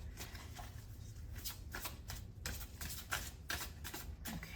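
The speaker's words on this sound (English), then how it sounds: "we're gonna do a couple more shuffles" Tarot cards being shuffled over and over close by, with a run of papery riffles and flicks over a low background rumble, no talking.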